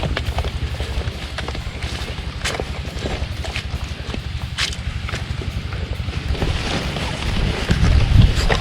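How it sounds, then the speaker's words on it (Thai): Strong wind blows over open rice fields, a steady loud rushing roar with microphone buffeting that grows heavier toward the end, with no talking. "ลมพัดเข้ามาแรงมากเลยนะคะ"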